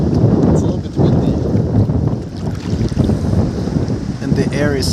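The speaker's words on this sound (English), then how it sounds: "It's a little bit windy" Strong wind gusts buffet the microphone on a Maldives island, a loud continuous rumbling roar, with faint voices and a brief whistle near the end.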